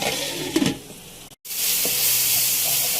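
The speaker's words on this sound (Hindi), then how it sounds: "इन सब चीज़ों को हमें एक साथ भून लेना है अच्छी तरह कि हमारा मसाला तैयार हो जाए" Tomatoes and masala fry in a pan, producing a loud, bright sizzle with a few stirring knocks, cut by a brief gap before the hiss resumes stronger.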